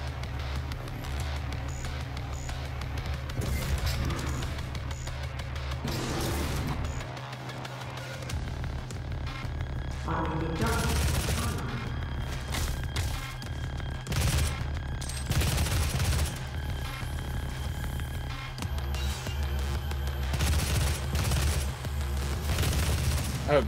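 Gunfire in a Halo-themed DOOM SnapMap level, dense bursts of rapid shots and booms over a constant rumbling game background, with no talk.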